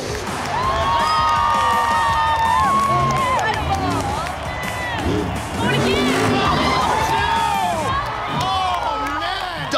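A stadium crowd at a Monster Jam freestyle competition cheers and screams loudly and continuously, with the roar swelling and easing in waves throughout.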